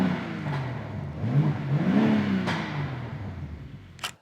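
A 2023 BMW M3 Competition, 3-liter turbocharged engine with Valvetronic exhaust, is revved once, the pitch rising to a peak and falling back toward a steady idle hum, heard close with no talk.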